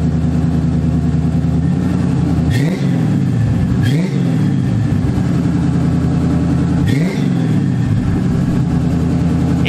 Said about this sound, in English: I threw the Flowmaster on the end of the Y pipe, and boy does it sound good